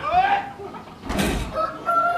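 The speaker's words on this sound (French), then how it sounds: "le maître coq bat le rappel" A farmyard rooster crows once, loud and close, between bursts of speaking voices that come before and after the call.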